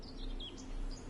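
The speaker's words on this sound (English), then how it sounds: "The birds singing, the bees buzzing." Birds sing in the video game The Witcher 3, a few faint, bright chirps and whistles over a low steady ambient hum, with no talk.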